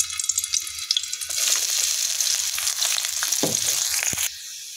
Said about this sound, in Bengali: তো কড়াইয়ের মধ্যে তেল ঢালি দিয়ে এখন পেঁয়াজ রসুন